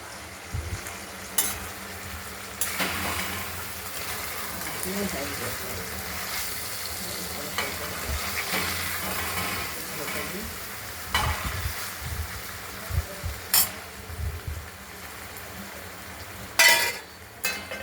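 Catla fish fat, potatoes and chopped onions sizzle in hot oil with spices for a long stretch while a utensil stirs and scrapes the pan at intervals, with a few sharper clanks.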